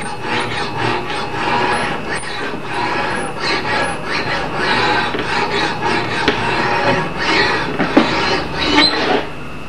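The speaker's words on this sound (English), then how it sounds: "it looks like I've done an awful lot of filing on that, but I'm only just getting a feather edge on it now" An axe edge being filed on a grinding jig, a continuous close rasping scrape with uneven strokes and a few brief louder scratches.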